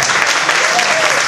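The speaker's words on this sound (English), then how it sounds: "Give me a round of applause for putting up with all this shit." An audience at a Halloween comedy and costume contest claps loudly and continuously in a brief burst.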